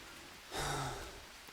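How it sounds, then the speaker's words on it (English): Rain falling in the jungle survival game Green Hell, a soft steady hiss that swells briefly louder for about half a second before settling back to a faint, even patter. "You hear that rain, right?"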